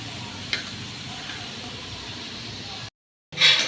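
Chilli chicken pieces frying in a pan give off a steady, close hiss and sizzle that runs unbroken before cutting off briefly and returning louder.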